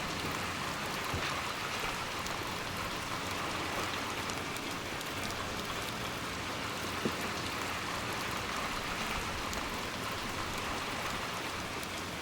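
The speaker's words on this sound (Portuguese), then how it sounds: "Um corredor à chuva." Steady rain falls in a corridor in the Little Nightmares II video game, a constant dense hiss of drops with no voices.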